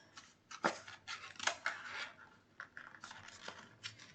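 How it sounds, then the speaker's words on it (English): A paper box folded by hand, with flaps creased and tucked into place: soft, close paper rustles and crisp crinkling snaps in uneven bursts, quiet throughout with no talking. "re-establish those creases and fold it into your box"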